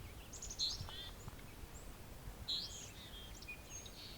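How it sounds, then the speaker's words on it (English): Two short high calls from a black-capped chickadee a couple of seconds apart, each a quick bright chirp with faint softer notes after, heard against quiet outdoor ambience at Otter Lake. "And there's a black-capped chickadee."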